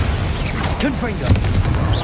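Confringo spell blast from the Hogwarts Legacy video game: a loud, continuous booming rumble with a heavier thump partway through, layered with in-game voices.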